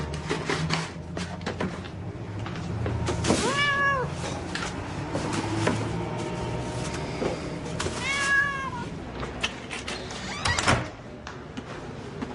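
A cat meows several times, two clear drawn-out cries standing out near and loud amid clattering, thumping household noise and a sliding door.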